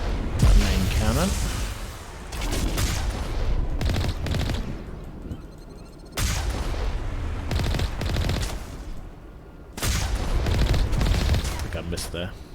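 Heavy gunfire and cannon blasts from a Mass Effect battle come in loud bursts separated by short lulls, close and dense.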